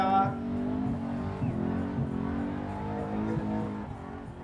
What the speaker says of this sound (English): That is one strong sounding Chrysler.